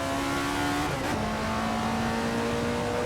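Alfa Romeo 33 Stradale racing engine in Assetto Corsa, a loud sustained tone that drops sharply through a quick downshift near a chicane, then settles into a steady lower drone.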